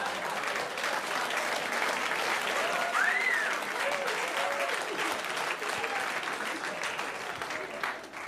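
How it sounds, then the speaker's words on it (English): A stand-up comedy audience claps steadily throughout, a dense sustained wash of applause at even loudness with no one speaking. "You all just clapped for a dead baby."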